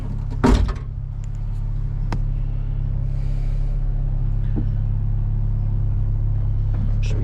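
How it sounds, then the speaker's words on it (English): A K20 turbo EF sedan rolls slowly down a driveway, giving a steady low rumble throughout, with a sharp thump near the start and a few faint clicks and knocks later. "I'm gonna roll the car down the driveway a little bit"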